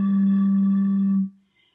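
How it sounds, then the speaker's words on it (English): Air blown across the mouth of an empty glass bottle makes a single low, steady, breathy hoot that holds for just over a second, then cuts off into near silence. "So a bottle can be played the same way you play a flute, by blowing air across the hole."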